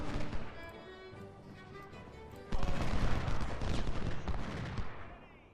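Musket and cannon fire in the Civil War strategy game Ultimate General: Civil War, at the Fredericksburg battle. A musical tone fades into a sudden loud volley of crackling shots and rumbling booms that continues for several seconds, with no voices.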